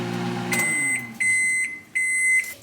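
A microwave oven hums as it heats food for a salad, then gives a series of sharp, loud beeps in three spaced bursts, close by with no talking.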